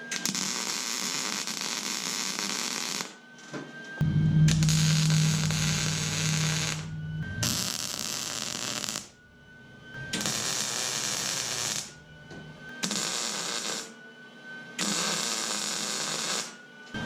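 A steel welding cart frame is being welded in a series of buzzing, crackling bursts, each lasting a couple of seconds, separated by short quiet pauses, heard up close with an underlying hum.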